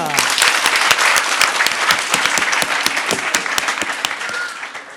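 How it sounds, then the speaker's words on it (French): Audience applauding their professors after a debate competition, a loud, dense burst of many hands clapping at once, with crisp individual claps audible throughout the five seconds. "Et je vous demande d'applaudir tous vos professeurs."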